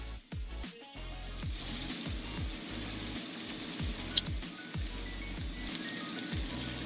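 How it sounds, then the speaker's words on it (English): A steak sears in a shallow layer of hot fat in a pan, giving a soft steady sizzle with scattered spatters and low thumps, moderately quiet and without talk. "So we're hot enough to start searing this off."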